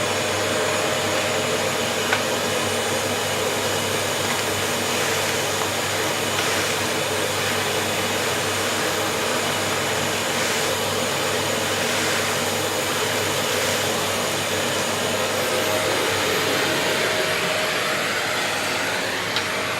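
A Kärcher multi-purpose vacuum cleaner runs continuously at close range, a loud steady whooshing motor roar with a slight shift in pitch toward the end.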